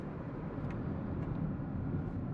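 A 2022 Hyundai Tucson Hybrid Limited accelerates with its turbo spooling up, a steady low engine drone heard from inside the cabin, continuous and moderately loud with no voices.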